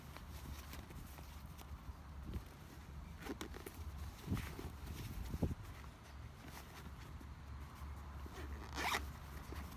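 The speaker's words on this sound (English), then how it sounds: "Zip it up, and you're ready to go." A zipper runs closed on the carrying pouch of a Trekology EasyGo outdoor fishing chair, a few rasping pulls heard up close with no talking.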